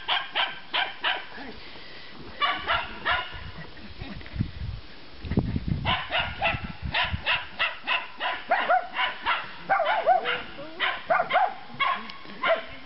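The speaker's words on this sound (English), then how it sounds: "Cappy, don't start the growling." A dog barks in quick repeated bursts, with lower rumbling growls between them, close by and fairly loud.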